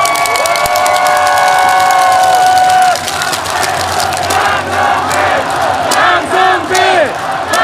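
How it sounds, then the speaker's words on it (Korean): A baseball stadium crowd at a Lotte Giants game in Jamsil Baseball Stadium cheers and chants loudly, with rising shouts and clapping swelling in waves across a large open venue. "응원의 박수 부탁드리겠습니다."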